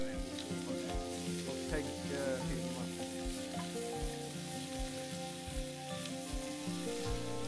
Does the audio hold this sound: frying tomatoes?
yes